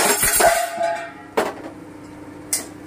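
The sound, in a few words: pan lid falling to the floor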